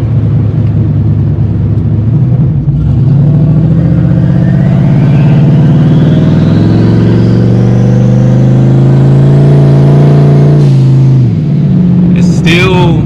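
A turbocharged Ford Mustang engine revs loudly and steadily climbs in pitch, then bogs and drops off near the end, close and dominant.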